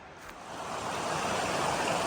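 Creek water rushes steadily at a creek crossing on a hike to South Harper Creek Falls, a close, even hiss of flowing water that swells slightly and holds.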